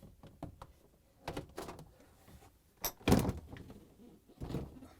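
A basket being fitted into a Samsung refrigerator makes a series of plastic clunks and rattles, with one louder thump near the middle and a final knock, close by and with no speech.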